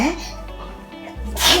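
A sharp, close sneeze bursts out with a breathy rush, followed by another brief, bright burst right at the end.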